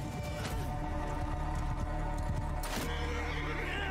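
A horse whinnies amid clattering hoofbeats and battle noise in the video game Mount & Blade II: Bannerlord, with a loud burst near the end over a dense, busy background.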